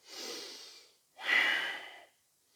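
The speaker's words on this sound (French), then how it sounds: "On expire quand on avance, on inspire quand on recule." Two slow breaths during an Ashtanga yoga exercise, a long exhale followed by a stronger inhale, close and audible with a brief pause between and no speech.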